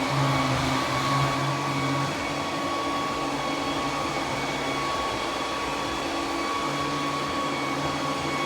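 A Roborock Q10V+ robot vacuum runs with a steady, loud whirring hum and a few shifting motor tones as it circles, constant and close throughout, with no talking.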